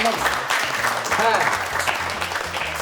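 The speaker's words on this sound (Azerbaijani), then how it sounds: "Bir alqışlayın da məni" An audience at a stand-up comedy show breaks into loud, sustained clapping that fills the room, with a voice speaking over it.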